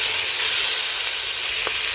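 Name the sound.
frying onions and bell peppers in a pan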